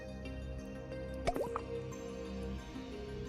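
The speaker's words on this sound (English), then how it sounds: "let me just go ahead and have a water" Drinking water in the space survival game Astrometica, a brief cluster of wet, dripping and squishy gulping sounds over a quiet, steady game ambience.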